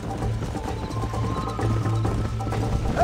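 A horse gallops with fast, close hoofbeats in Red Dead Redemption, steady and fairly loud, with a brief whinny near the end.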